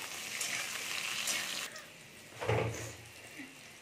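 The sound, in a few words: cauliflower frying in a pan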